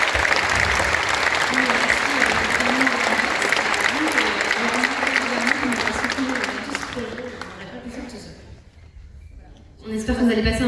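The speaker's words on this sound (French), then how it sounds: "je pense qu'on peut les applaudir" Concert audience applause at La Cigale, a dense steady roar of clapping with voices mixed in, holding for about seven seconds before thinning out and fading, then a brief burst of sound at the end.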